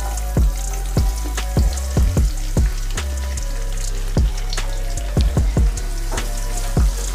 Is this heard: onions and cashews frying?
yes